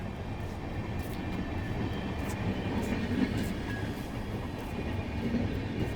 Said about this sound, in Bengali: আর বন্ধুরা, এই যে বেরিয়ে যাচ্ছে বালুরঘাট এক্সপ্রেস।